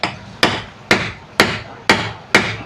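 A big hammer strikes a metal pin on a bent wire for an engine part. Six sharp, loud blows come at an even, steady pace about half a second apart, each ringing briefly before the next.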